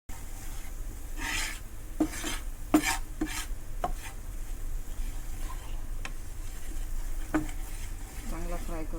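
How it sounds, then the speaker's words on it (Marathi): Two spoons of flour fry in a pan for pasta while a utensil scrapes and stirs, producing rasping strokes and occasional clinks over a low sizzle, close and fairly quiet. "त्यानंतर 2 चमचे मैदा टाकूया. फ्राय करून घेऊ चांगलं."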